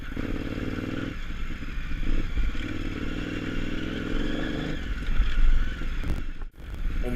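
Motorcycle ridden off-road on a rough trail in Moab, its engine droning and surging steadily under wind and rattling clatter from the bumpy ground, close and fairly loud throughout.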